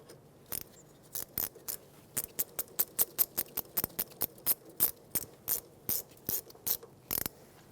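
Ratchet wrench snugging a brake hose fitting onto a rear performance brake caliper of a 2013-2020 Nissan Pathfinder, a run of crisp rapid clicks in short bursts, close and alone.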